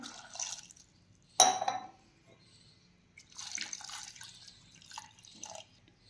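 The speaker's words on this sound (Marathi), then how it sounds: "भरपूर सारे यामध्ये पाणी टाकून घेऊयात" Water poured into a pressure cooker holding drumsticks and a green chilli, heard as soft intermittent splashing and dripping in short bursts, with a brief sharper splash near the start.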